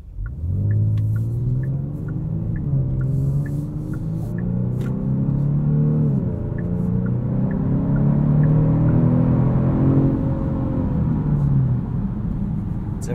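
A 2022 Genesis G70 with the 3.3-litre twin-turbo V6 and AWD accelerates from inside the cabin, its engine note rising steadily through the gears with a brief dip at a shift, deep and continuous.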